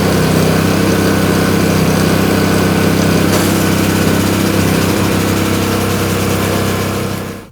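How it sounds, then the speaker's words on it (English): A gas-powered Honda 621 snowblower engine runs at a loud, steady drone throughout, holding constant before cutting off at the very end. "We're going to start the gas power first"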